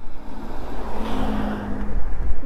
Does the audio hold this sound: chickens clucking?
no